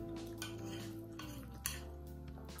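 Khanom khrok being scooped out of the pan and onto a plate: a metal utensil scraping and clinking against the pan and dish, a few close, light knocks over a steady background hum.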